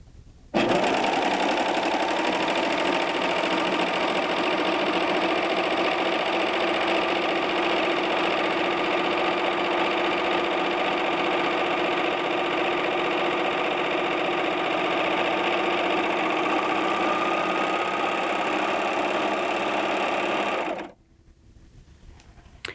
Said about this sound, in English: all I have to do is make a couple of adjustments and we're ready to go